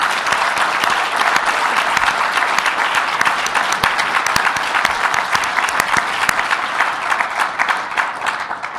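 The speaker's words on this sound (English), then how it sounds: "I'd like to just give a hand clap for Tracy" A studio audience claps loudly and steadily for the whole stretch, a dense, even wash of hand claps with no voices over it.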